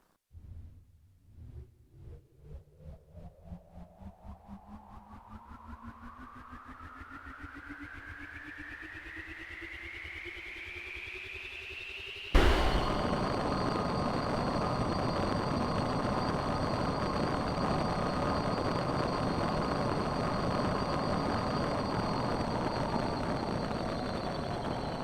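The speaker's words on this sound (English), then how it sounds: "I will now start the engine" A simulated jet engine spins up from a low rumble, its whine rising steadily in pitch for several seconds before igniting into a loud, constant roar with sustained high tones.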